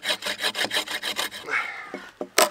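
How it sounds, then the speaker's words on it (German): A hand saw cuts through a thick wooden log at a bushcraft campsite with quick, steady back-and-forth strokes up close. The sawing stops after a second and a half, followed by a few short knocks. "Na gut, dann sägen wir den mal zusammen"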